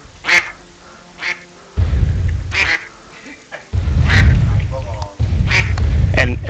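Cartoonish duck quacks from the SmackHammer video game sound in short repeated bursts, mixed with low booming game effects and thumps, fairly loud and busy.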